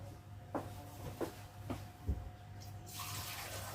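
Water from a kitchen tap poured while making a galette dough with lardons, a few light splashes followed by a steady running stream near the end, close and without talk.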